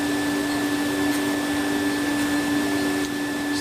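A laser cutter working through acrylic sheet gives a constant loud whooshing hum from its exhaust and air assist, steady with fixed tonal whines throughout and no talk.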